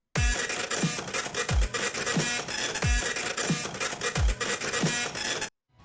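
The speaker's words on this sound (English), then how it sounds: "Oh, a printer-based song." An unused printer-themed music track from the video game Deltarune plays loud and loops, with rhythmic mechanical printing clatter and thumping beats that cut off abruptly near the end; a brief spoken remark overlaps it.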